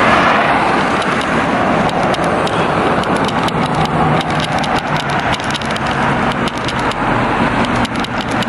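Cars on a Mississippi State University campus, a loud, steady engine and road rumble close by with faint ticking and clicking over it throughout.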